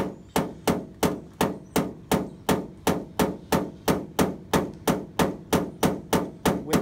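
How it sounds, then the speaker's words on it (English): A blending hammer raps out a dent in a Dodge body panel in a paintless dent repair shop. About twenty crisp, evenly spaced metallic taps come steadily and close, with no one speaking. "blending hammer."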